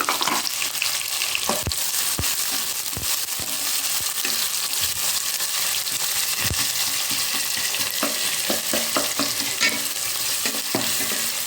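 Two cups of onions frying in a pan with whole cardamom, cloves, cinnamon and caraway for keema pulao, giving a loud, constant sizzle broken by scattered scraping stirs and clicks.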